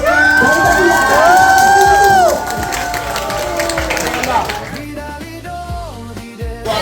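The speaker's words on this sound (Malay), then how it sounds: "Beri tepuk tangan sikit." A festive crowd at a Malaysian camp meet cheering and clapping, loud and dense, with shouts and music-like tones over it for the first two seconds, then settling into softer ongoing cheers and chatter.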